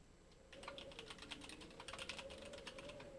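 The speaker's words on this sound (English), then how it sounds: "Probably because I was typing" Rapid, steady clatter of fingers typing on a computer keyboard, close and fairly quiet, starting after a brief pause and continuing in uneven bursts over a faint background hum.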